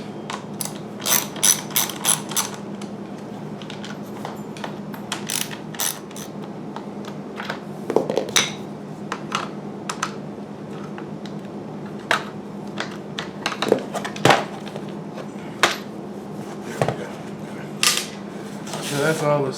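Screws are backed out of the instrument cluster of a 2008 Chevy Equinox, giving bursts of sharp ratcheting clicks and small metallic taps over a low steady hum, close and fairly quiet.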